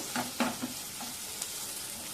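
Fresh coriander and curry leaves fry in a hot pan with a dense, steady sizzle. A few quick stirring scrapes come near the start.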